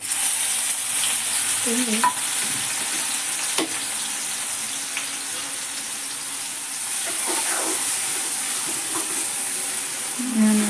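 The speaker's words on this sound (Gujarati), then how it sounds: "એક તમાલપત્ર અને એક હવે નાખી દઈએ થોડું જીરું" Cumin, a bay leaf and star anise sizzle in hot oil for Kathiyawadi green chickpea curry, a dense, steady hiss close up with a few faint stirring clicks and no voices.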